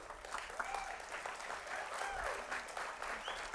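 Audience at a college commencement ceremony applauding steadily, a dense, even wash of clapping from a large crowd throughout, with faint voices mixed in.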